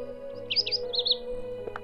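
An animated bird in the Shadow Wolf Mysteries game chirps a short series of high, bright tweets over a soft steady background tone, fairly faint and with no talking.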